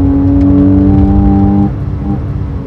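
A Porsche sports car accelerates out of a corner, its engine giving a loud, close, steady tonal drone. The drone drops off abruptly near the end, leaving lower road noise.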